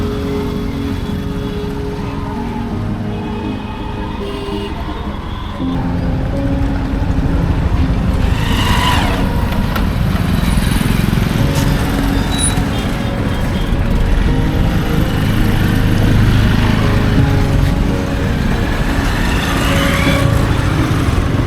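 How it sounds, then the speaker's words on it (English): A car drives through busy Jaipur city streets, a steady loud road rumble of engine and traffic noise running throughout with no talk. "we leave Amber Fort behind and drive back into the busy streets of Jaipur"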